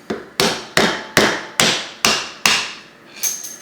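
A hammer strikes a tool to drive the seal out of a vintage Johnson Evinrude OMC outboard lower gearcase: seven sharp, evenly spaced metallic taps, loud and close, then a softer final knock.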